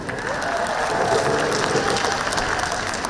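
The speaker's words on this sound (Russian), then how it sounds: "судя по тому, как за вас хлопают ваши наставники" Audience applause fills a company anniversary event hall, a steady dense clapping from a large crowd held at even loudness for about three seconds, with no speech over it.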